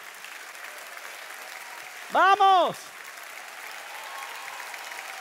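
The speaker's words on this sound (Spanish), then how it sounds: "déle un buen aplauso" A church congregation applauds during a sermon, heard as a faint, steady wash of distant clapping throughout. A voice briefly calls out over it.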